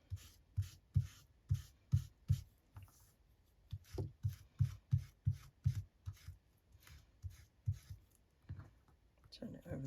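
Fabric is rubbed over the page of a handmade journal in quick rhythmic strokes, a run of close, dry scuffs with a brief pause midway, then a rustle at the end.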